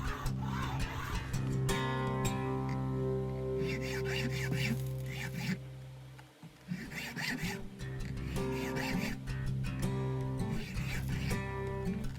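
A bare ferro rod is scraped to throw sparks, giving repeated close, rasping strokes in an uneven rhythm with a brief lull partway through.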